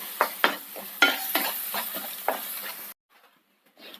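Tomatoes sizzle in a pan for a white chickpea curry, with a run of spatula scrapes and stirs over a steady fry, close up, before the sound cuts to near silence.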